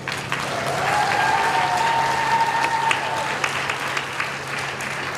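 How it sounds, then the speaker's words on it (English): A school graduation audience at a charter school claps in sustained, loud applause that swells briefly and then gradually tapers off, with a faint tonal ring above the clapping. "Let's all give them a round of applause."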